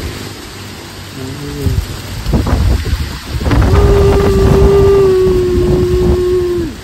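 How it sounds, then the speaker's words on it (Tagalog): Heavy rain pours steadily on a mountaintop, loud and close, with a low rumble building beneath it. "Malakas yung ulan dito."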